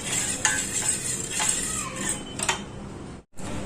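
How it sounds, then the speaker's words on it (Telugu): A spoon stirring custard powder into milk in a bowl until smooth, giving a few light clinks and scrapes against the dish over a soft background hiss. "ఇలా బాగా కలిపేసేసి లమ్స్ లేకుండా రెడీ చేసుకోవాలి."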